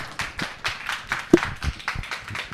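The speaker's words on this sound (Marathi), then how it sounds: "टाळ्यांचा प्रतिसाद द्यायचा आहे." An on-stage honoree at a ceremony receives a short run of clapping, a handful of sharp, fairly close claps in an uneven rhythm rather than a full crowd roar.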